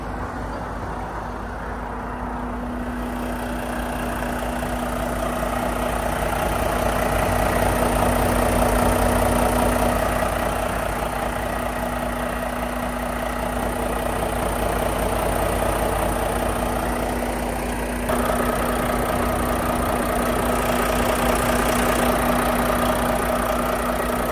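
A 2026 Mack Pinnacle truck with an MP8 505 hp engine idles steadily nearby, a continuous low diesel rumble with a faint whine on top that holds level throughout.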